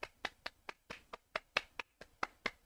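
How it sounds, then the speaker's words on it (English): A short burst of applause: sharp, evenly spaced claps, about a dozen in quick steady rhythm, close and clear with no voices. "Let's all give him a round of applause"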